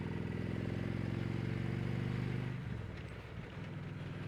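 A motorcycle engine drones loud and steady at close range while riding through a turn, its low rumble easing and dropping in level partway through as the bike slows.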